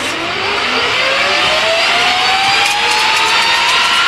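A jet-powered drag racing car launches at a pro jet car championship, giving off a loud, continuous roar with a rising whine that climbs steadily as it pulls away.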